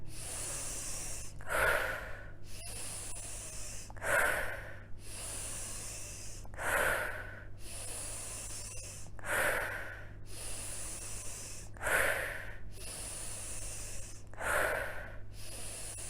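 Deep, forceful breaths from a breathing practice session sound close and alone, with a loud rushing inhale or exhale roughly every two and a half seconds over a steady low hum.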